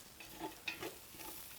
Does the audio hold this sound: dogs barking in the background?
no